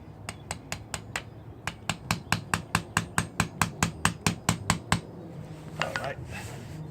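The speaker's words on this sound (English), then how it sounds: "I'm going to hit that with the mallet hammer, my screwdriver." A mallet strikes a screwdriver set against a GY6 scooter clutch in a long run of sharp, evenly spaced metallic taps that speed up slightly, close and clear, then stop, followed by faint handling noise.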